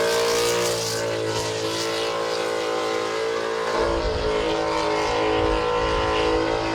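A drift car engine screams near the rev limiter, held loud and steady, with a deeper surge partway through as it spins and pumps smoke across the pad.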